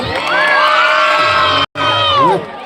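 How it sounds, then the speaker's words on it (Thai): Supporters at a Muay Thai fight cheer loudly for a boxer, a dense crowd roar with shouts and whoops, cut by a brief gap before the cheering surges back. "กองเชียร์ของนนทชัยเล็กขอเสียงหน่อย"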